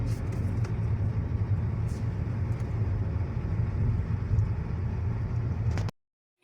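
Car engine and road noise from a vehicle driving on a highway before dawn, a steady low rumble that continues evenly and then cuts off abruptly near the end.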